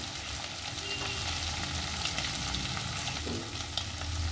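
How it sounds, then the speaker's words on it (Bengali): Prawns fry in a pan with a soft, steady crackling sizzle and faint stirring noises, fairly quiet and continuous with no voices. "চিংড়ি মাছগুলো হালকা হালকা করে লাল লাল করে এভাবে ভেজে নিচ্ছি।"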